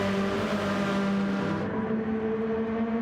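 Race cars in Gran Turismo 7 at Trial Mountain, a pack running in close slipstream through the final turn onto the start-finish straight, engines droning steadily with sustained tonal whine, alone without talk.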